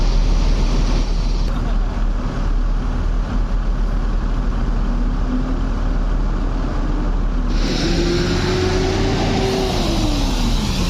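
An executive intercity bus, unit V47, pulls away from a station on a morning departure for West Sumatra, its engine rumbling steadily and rising in pitch as it accelerates, with continuous broadband road and engine noise throughout.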